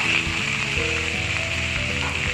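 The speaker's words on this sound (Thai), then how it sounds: "แล้วก็ทำการผัดคลุกเคล้าเลย เ ราจะผัดคลุกเคล้าประมาณสักหนึ่งนาทีนะครับ" Green beans sizzle as they are stir-fried with chicken in a hot wok, a steady crackling hiss running throughout with a faint tonal hum in the background.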